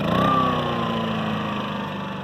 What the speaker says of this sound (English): And after the generator's running,